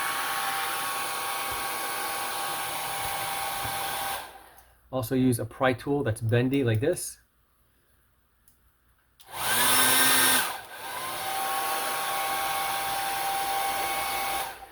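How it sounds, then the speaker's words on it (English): A hot hair dryer set on low heat warms a Legends pinball control panel speaker near its acrylic plate, giving a steady whooshing blow that cuts out while a person speaks briefly, then returns just as loud. "I use a hot hair dryer"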